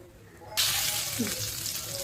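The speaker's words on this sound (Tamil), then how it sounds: "இப்போ நம்ம இந்த உருண்டைகளை எண்ணெயில் பொறிச்சு எடுத்துடலாம்" Small capsicum dumplings dropped into hot oil for deep-frying, where quiet gives way to a sudden loud, bright crackling sizzle that holds steady close by, with no talking.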